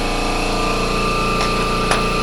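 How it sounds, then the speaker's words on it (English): An air compressor runs in a workshop where a 1979 Porsche 924 is being prepared for paint, a loud, steady mechanical drone with a regular pulsing throb and a couple of brief clicks, with no talking. "the noise of the air compressor over there"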